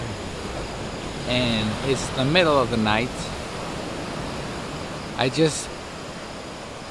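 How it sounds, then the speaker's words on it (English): Atlantic Ocean surf rolls steadily onto the shore at night in Gambia, a constant broad wash of breaking waves, while someone speaks briefly over it near the start and again near the end. "the sound you're listening to right now is the Atlantic Ocean."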